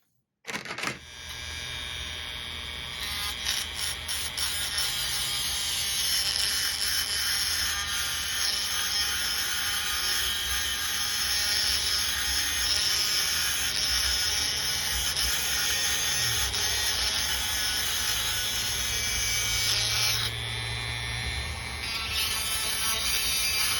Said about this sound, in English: I'll get my Dremel out and we'll file this off to make it nice and smooth